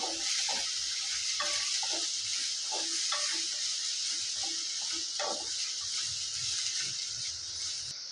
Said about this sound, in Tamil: ஒரு பச்சை மிளகா நீல வாக்கில் தீர்னது கொஞ்சம் கருவேப்பில் இப்போ நம்ம இதை வதக்கி எடுத்துக்கலாம்